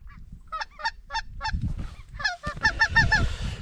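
Snow geese honk in repeated rhythmic bursts, loud and near, some calls overlapping, with rustling and low handling noises underneath.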